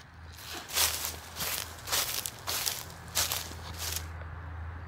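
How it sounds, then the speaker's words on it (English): Crunchy footsteps on dry fallen leaves, about five steps in a steady walking rhythm, close and crisp against a low hum. "Can you hear them crunching when I walk on them?"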